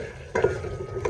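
Karela gosht with tomatoes and green chillies being stirred in a pan, a spoon scraping and turning the mix with a soft sizzle beneath, two louder stirring strokes standing out.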